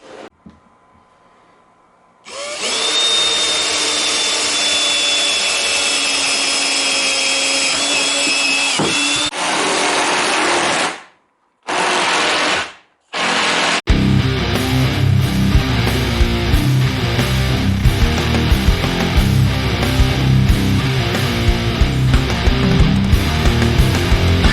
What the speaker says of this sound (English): just going to drill a couple holes into this, a few holes into this